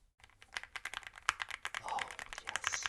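Rapid, uneven clacking of keys on an AULA F108 Pro gaming keyboard, close up, with sharp clicks bunched in quick bursts.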